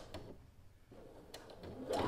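A sewing machine top-stitches close to a fabric edge with a zipper foot, running steadily and quietly at close range.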